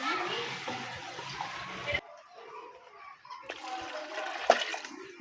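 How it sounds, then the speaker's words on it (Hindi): Water pours into a cooking pot of beef biryani in a steady gushing stream for about two seconds, then quieter splashing and trickling follows, with faint household sounds and a voice in the background. "पानी हमारा अब डालेंगे,"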